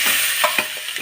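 Rested fish pieces dropped into a hot pan with fried fenugreek, cumin and coriander seeds, giving a brief close sizzle with a few soft stirring scrapes.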